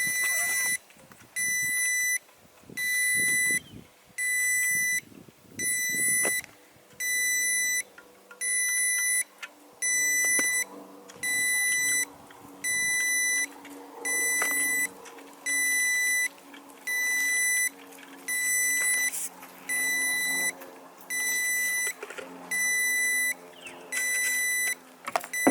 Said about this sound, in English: There goes the battery beeper again.